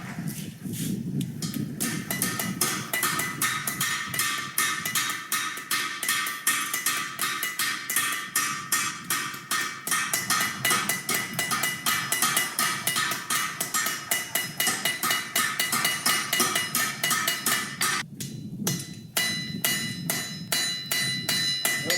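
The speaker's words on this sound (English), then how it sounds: "I'm gonna try my forge weld here, see if it works." Hammer striking hot steel in a forge weld, a long run of loud, fast, evenly spaced metallic blows close by with a brief pause near the end, no talking.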